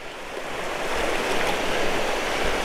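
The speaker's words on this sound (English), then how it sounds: "This is the Palliser River. It's a major river" The Palliser River in the Canadian Rockies rushes steadily at a ford, a close, loud, broadband wash of flowing water with no voices, building slightly over a few seconds.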